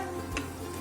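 Two sliced onions drop into hot ghee in a pressure cooker for chicken biryani, giving one brief, soft sizzle close by and faint overall.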